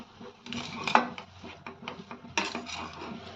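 A spoon scrapes and clinks in a pot as chopped coriander is stirred into a spiced potato filling for Frankie rolls, with irregular close scraping strokes and a few sharper metallic taps.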